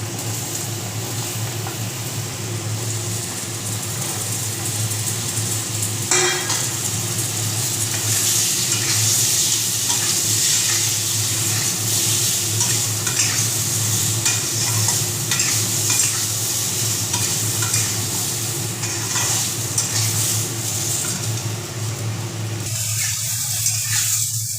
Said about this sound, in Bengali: আলু এবং কোয়াশগুলোকে একটু ভালো করে ভাজতে হবে